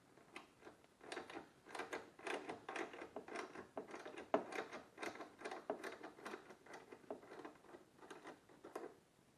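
A wrench works a single 10 mm bolt loose on a car, giving faint, quick ratcheting clicks and small metallic taps in irregular bursts, close by and without talk.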